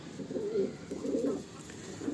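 A Kalanka high-flying pigeon coos softly in repeated low, throaty rolls, close and alone with no voices.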